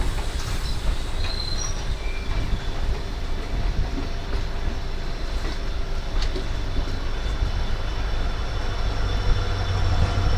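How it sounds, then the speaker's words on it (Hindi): The Ranikhet Corbett Park Link Express, hauled by a WDP 4 diesel locomotive, rolls along a curve on a Jaipur–Jaisalmer run with a steady, loud rumble of carriages, wheel clatter and faint wheel squeal throughout. "दोनों ट्रेन्स का कर्व बहुत ही अच्छा लग रहा है।"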